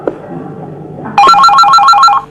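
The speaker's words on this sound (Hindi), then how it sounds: "देखो देखो, बड़े भैया का फोन होगा।" A telephone rings in a home with a loud, electronic warbling ringtone in a steady repeating pattern after a brief quieter lead-in, with no talk over it.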